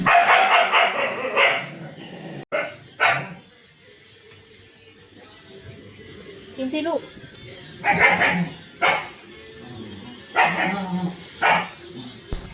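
A mother dog barks in repeated short bursts to call her newborn puppies, with some yips and whimpers between the barks, while someone speaks over parts of the sound.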